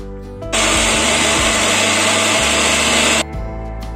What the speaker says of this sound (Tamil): எல்லாத்தையும் மிக்ஸி ஜாரில் சேர்த்தாச்சு அரைச்சி எடுத்துடலாம்.